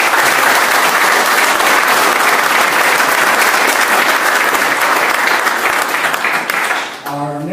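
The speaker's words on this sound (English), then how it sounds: "let's give a big round of applause for our panelists." Sustained, dense applause from a live seminar audience for a panel of real estate investors, steady and loud for about seven seconds before tapering off at the end.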